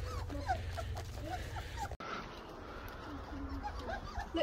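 Young Labrador Retriever puppies whimper and yelp softly in a rearing pen, faint high cries scattered over steady background noise.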